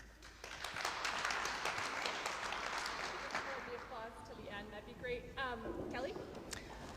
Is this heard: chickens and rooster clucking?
no